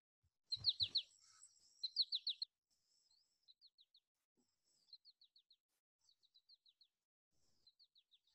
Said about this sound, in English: So I'm gonna play you guys the um, goldfinch call.